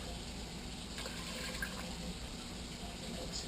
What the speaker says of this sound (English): we're going to throw about 6 cups of water in here